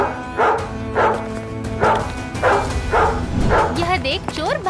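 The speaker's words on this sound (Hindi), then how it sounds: "तभी बाबू भौंक भौंक कर सबको जगा देता है।" A dog barks in a house at night, a series of rhythmic, evenly spaced barks ending in rising whimpers and yips, set within narration and background music.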